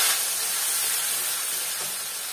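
Onion paste sizzles steadily in a hot pan while being fried for a Bengali chicken kosha curry, a continuous close hiss with no talking.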